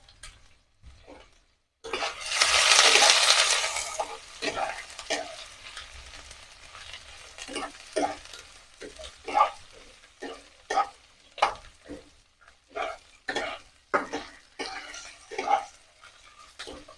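Whole garam masala and cumin seeds hit hot oil in a pan for Bengali garlic rohu, bursting into a loud hiss that settles into steady frying crackle with repeated sharp clinks and scrapes of a spoon stirring.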